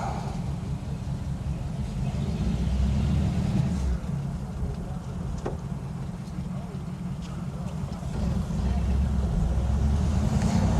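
A 1950 Ford Custom Deluxe convertible on the road, its engine a steady low rumble with road noise building and easing as it drives, while someone talks over it.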